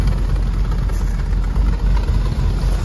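Engine of a 1932 Ford roadster hot rod, an Adams build with an automatic gearbox, idling in a steady, close, heavy low-pitched rumble with slight rhythmic pulsing and no talk over it.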